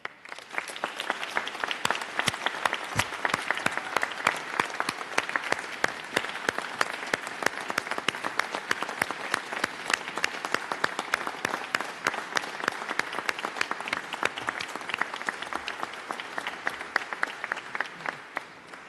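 Sustained audience applause at an NYPD ceremony honoring Rabbi Cass, the department's chief chaplain, for 55 years of service. Dense, steady clapping from a large crowd continues evenly for the whole stretch.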